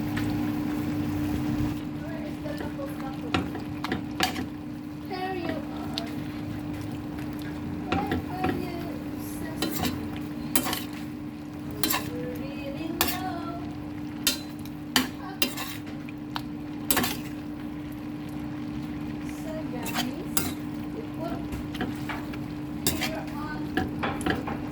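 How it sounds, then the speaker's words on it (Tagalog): Beef with garlic is stirred in a hot pan: a low sizzle runs underneath repeated sharp clinks and scrapes of a utensil against the metal, and a voice talks at times. "halo-haloin muna natin ito hanggang sa mag-iba ang kanyang kulay"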